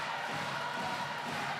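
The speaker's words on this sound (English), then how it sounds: "Big cheer from the French." French fans at a women's handball semi-final in an arena let out a loud, sustained roar of cheering that fills the brief moment, with no clear voices standing out.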